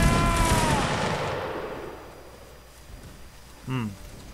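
A loud, close volley of musket fire opens a line battle in Mount and Blade: Napoleonic Wars, then decays into a long, fading rumble, followed by a short bugle-like tonal call.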